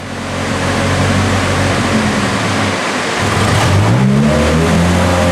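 A Toyota MR2 Spyder with a swapped-in 2.7L 2AR engine revs hard on a dynamometer, a loud, sustained engine roar that climbs steadily in pitch toward the end of the run, with no talking over it.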